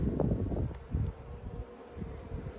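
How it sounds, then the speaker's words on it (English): Honeybees hum softly at a busy beehive, a low, steady buzz with small swells in loudness. "Look how busy that hive is."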